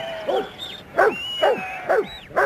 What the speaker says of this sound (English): This six-month-old pup is learning not only when to bark, but when to stop